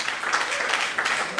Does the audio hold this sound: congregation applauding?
yes